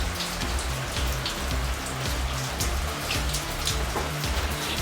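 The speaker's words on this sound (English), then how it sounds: "It starts raining again because it's Florida, of course" Steady rain pours down in Florida, a dense, even hiss of drops striking surfaces near a garage, with continuous pattering and no voices.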